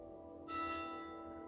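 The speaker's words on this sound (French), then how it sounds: "il va y avoir les cloches de l'église" Church bells strike at noon, a bright metallic clang that starts suddenly partway in and rings on with a long, slowly fading resonance, heard from a distance in a quiet room.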